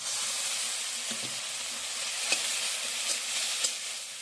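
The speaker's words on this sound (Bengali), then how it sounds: "দিয়ে দেবো আদা পেঁয়াজ রসুন বাটা," Ginger, onion and garlic paste fries in oil in a kadai with a continuous close sizzle, punctuated by a few light spatula taps and scrapes spread across the stretch.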